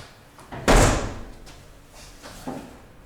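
A single heavy slam of a pickup truck's Pro-Form Sportlid bed cover shutting, loud and close, followed by a couple of softer knocks and rattles.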